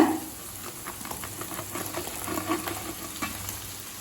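Fried idli pieces added to masala in a pan, giving a continuous close sizzle with light stirring clicks and a brief louder onset at the start.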